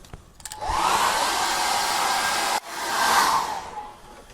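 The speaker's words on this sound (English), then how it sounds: "We need to get the hairdryer on that now." A hair dryer blows steadily at close range on acrylic paint with a constant airy whoosh, briefly cutting out and restarting partway through before winding down.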